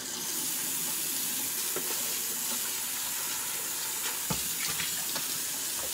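Water runs steadily from a tap into a washbasin for hand-washing clothes, a continuous close hiss and splash with a few louder knocks and sloshes, no voices.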